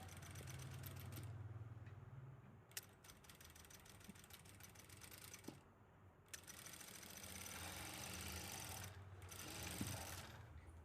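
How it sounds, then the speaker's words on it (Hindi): Sewing machine stitching piping along a curve, a faint steady mechanical whir with soft rhythmic clicking, interrupted by a few brief pauses and small handling clicks. "अब इसको गोलाई में सिलेंगे।"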